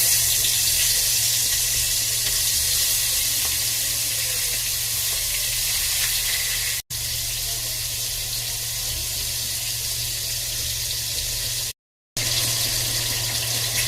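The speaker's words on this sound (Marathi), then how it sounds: "आता करते फिश फ्राय। इथे मसाला लावून 20 मिनिटं ठेवली होती मी। आता टाकते तव्यावरती" Masala-marinated fish frying in hot oil on a tava, a steady close sizzle and crackle that runs unbroken for over ten seconds, with two very brief dropouts and no talking.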